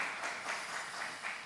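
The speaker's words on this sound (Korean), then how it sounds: "우리 하나님께 영광의 박수 다 올려드리고" A church congregation at a Friday worship service gives a short, steady round of applause, a dense wash of many hands clapping together with a few swelling peaks.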